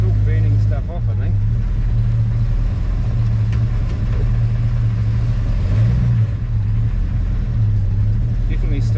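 A Chevy 350 small block engine running in a 1946 Chevy pickup on a test run: a loud, steady low idle with an even throbbing hum and slight wavering, with voices over it.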